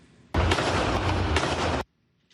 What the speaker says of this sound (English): Witness video captured gunfire from the shooting that claimed the lives of a Montreal police officer and a civilian.